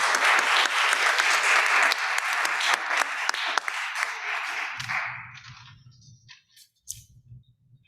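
Applause from a small group in a school board meeting room, dense clapping for about five seconds before thinning to scattered claps, followed by quiet murmured talk.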